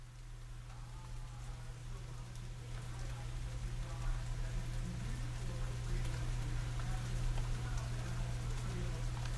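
Rain pattering on leaves outdoors, a steady soft hiss of drops that grows slightly louder, with a low constant hum underneath and no talk.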